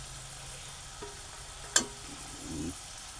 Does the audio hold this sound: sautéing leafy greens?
yes